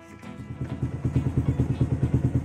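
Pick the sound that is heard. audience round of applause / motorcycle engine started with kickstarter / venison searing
motorcycle engine started with kickstarter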